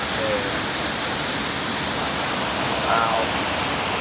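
A winter waterfall still runs among gathered ice and icicles, giving a steady, even rush of water that stays constant throughout, with faint brief tonal chirps showing near the start and again around the three-second mark.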